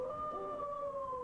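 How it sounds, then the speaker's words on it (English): A dog howls from a Walt Disney World ride soundtrack, one long sustained wavering note that slides slowly downward, alone and fairly clear over faint background hiss. "Recognize the howling dog."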